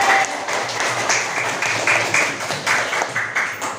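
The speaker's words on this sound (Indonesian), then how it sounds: "Tepuk tangan untuk kalian." A classroom of students claps together in short rhythmic bursts, the sharp pats rising and falling in quick pulses, fairly close and lively, with no talking over it.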